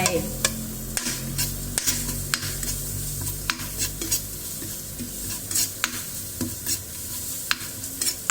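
Ingredients for a tom yum soup with yisok fish are stir-fried in a pan, with steady sizzling under repeated scraping and clacking of a utensil against the metal, close and alone without talk.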